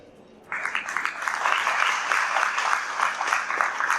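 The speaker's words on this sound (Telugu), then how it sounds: "Now clap for your self today." An audience at a PCOS awareness campaign event bursts into clapping after a brief quiet moment, then the dense applause keeps going steadily at moderate volume to the end.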